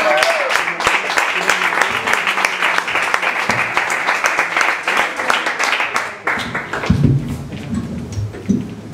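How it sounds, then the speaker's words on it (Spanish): Loud, rhythmic audience clapping for a flamenco performer, sharp and close, with a voice speaking over the later part as the applause loosens. "Un fuerte aplauso para José Antonio de Greco."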